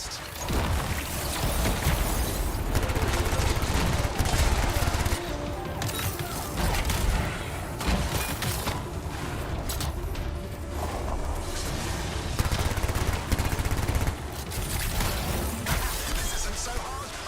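Dense gunfire and mechanical clatter from the Anthem video game run nearly continuously, loud and close, with brief shifts in intensity amid a busy in-game soundscape.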